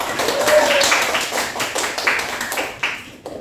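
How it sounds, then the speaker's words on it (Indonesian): A class of students claps together in appreciation, a fairly close burst of hand claps that eases off and ends in a few scattered claps, with some voices underneath. "Mari kita tepuk tangan sekali untuk mengapresiasi kita semua."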